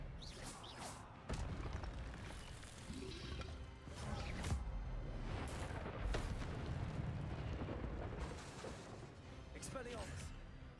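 Spell impacts and crashes from Hogwarts Legacy combat, with Expelliarmus casts among them: repeated loud bursts and booms over a steady rumbling game mix, with a voice shouting spell names throughout.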